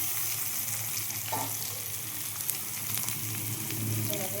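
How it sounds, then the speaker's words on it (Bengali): Steamed potatoes sizzle and crackle as they fry in oil in a wok, a continuous dense hiss with occasional small pops and light stirring, no voices. "এইটাকে আমি লাল লাল করে ভেজে নেবো দিয়ে দিলাম"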